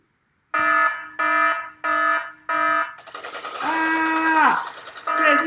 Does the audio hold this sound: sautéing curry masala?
no